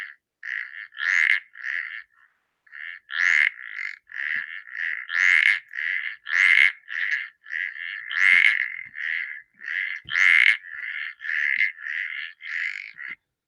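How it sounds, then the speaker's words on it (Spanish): Antifaz frogs (Batrachyla taeniata) call from a wetland in southern Chile, a close chorus of repeated rhythmic trilled notes in steady bursts, clear and alone with no voices. "Esas son las Batraquila teniata, la rana de antifaz, que está cantando en todos los humedales del sur de Chile"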